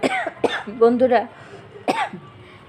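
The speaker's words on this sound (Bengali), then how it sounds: "কাশি হয়েছে" A couple of sharp, close coughs, with a person speaking briefly between them.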